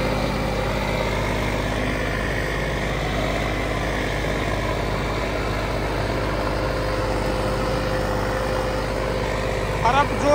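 A John Deere tractor engine, an older simple non-CRDI model, runs at a steady idle with a constant low rumble throughout, with people talking over it.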